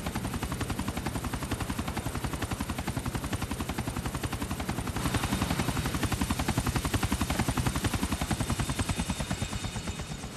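A helicopter in Grand Theft Auto IV drones with a fast, unbroken rotor chop that holds steady throughout and swells slightly toward the middle, loud and close, with no voices over it.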